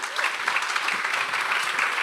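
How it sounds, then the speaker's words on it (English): A large audience claps steadily and evenly at the end of a talk, a dense wash of applause that holds at full strength throughout with no voices standing out. "Round of applause, please, ladies and gentlemen"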